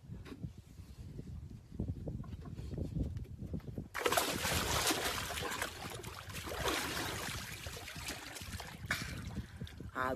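Someone plunges into a cold water tank, with a sudden burst of broadband splashing and sloshing water after a stretch of quieter movement, continuing as churning water noise near and loud.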